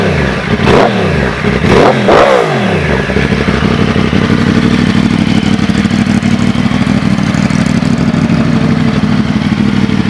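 A 2009 Yamaha YZF R1 motorcycle engine revs sharply twice near the start, then settles into a steady, loud, close idle with a mechanical clatter.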